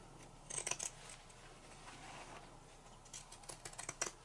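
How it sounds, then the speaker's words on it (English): Pinking shears snip through fabric around a circle for a no-sew pillow, soft quiet crunchy cuts in small clusters with pauses. "jumped into something easy like pinking shears around a circle"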